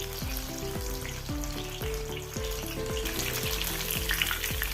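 Banana fritters (pazham pori) sizzle steadily in hot oil with a dense, continuous crackle, close and loud, with no talking.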